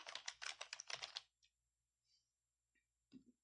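Quick burst of keystrokes on a computer keyboard while renaming a node in the Godot game engine, ending with a press of Enter, followed by faint scattered clicks and near silence.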